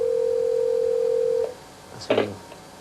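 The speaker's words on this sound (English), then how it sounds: "ask the 9 to 5 to dial the number. It will therefore do that because it has the number stored in its internal directory" A 1984 IBM 9 to 5 office computer auto-dials a stored phone number, with a steady dial tone that cuts off, followed by a short burst of dialing tones on the line.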